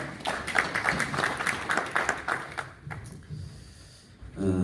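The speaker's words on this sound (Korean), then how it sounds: "박수로 맞이해 주시면 감사하겠습니다." A conference audience at a church regional meeting claps to welcome a pastor to the podium, the applause fairly close and lively before thinning out and fading toward the end.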